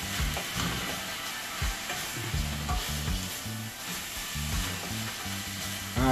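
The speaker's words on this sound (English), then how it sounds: "After adding all those spices, freestyle, we'll go ahead and stir everything together." Seasoned chicken with spices stirred in a pan, with close, rhythmic scraping strokes over a continuous sizzle.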